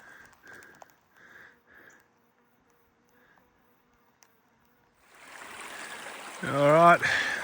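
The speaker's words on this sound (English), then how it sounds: "Blairs Hut's on the other side of this creek." A mountain creek on an alpine hiking circuit flows near the listener, its rushing water swelling in loudly after some brief talking and quiet footsteps.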